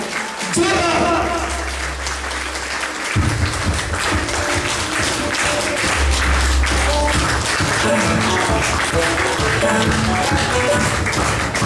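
Loud audience applause at a Safe Shop direct-selling event, sustained clapping under a host's amplified voice and music, rising and holding strong throughout.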